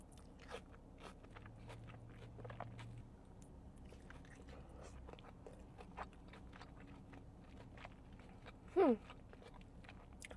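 Quiet close-up chewing and crunching of In-N-Out animal style fries, with soft irregular bites and mouth sounds and a brief louder scrape near the end.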